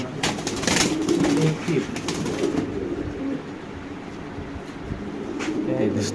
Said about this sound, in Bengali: তো দর্শক এখানে আছে টপ কোয়ালিটি একদম শৌখিন কবুতর